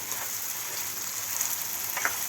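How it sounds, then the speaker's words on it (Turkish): Chopped tomatoes and green peppers sizzle and crackle steadily in a hot pan, a constant bright hiss with small pops, no voices. "Yeşil biberle beraber domateslerimi de bırakıyorum."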